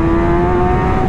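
Kawasaki ZX10RR sport bike engine holding a high, steady whine during the ride, loud and close with strong wind rush and no voices.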